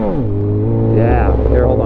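A BMW S1000RR sport motorcycle fitted with an SC Project exhaust revs loudly at close range, idling with a deep drone before the pitch climbs sharply in a throttle blip.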